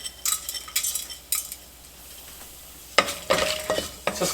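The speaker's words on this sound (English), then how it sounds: "Just fry them for like literally for a minute only." Cinnamon stick and crushed cardamom fry in a pan for beef vindaloo, sizzling under repeated scraping stirs of a utensil, with a louder burst of frying and metal scraping toward the end.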